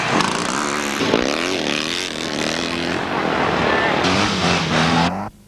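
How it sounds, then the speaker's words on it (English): A 1955 Enfield 500 and other classic scramble motorcycles revving loudly at a 1999 race meeting, engines warming up with rising and falling whines that overlap for about five seconds, then cut off abruptly. "still warming the bike up"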